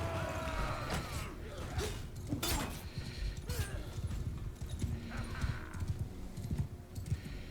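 Horse hooves pound steadily in Mount & Blade II: Bannerlord as a mounted rider charges across terrain, a continuous dense clatter of galloping with scattered clanks and game effects layered over it throughout.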